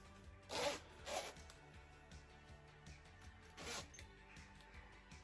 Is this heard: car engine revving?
no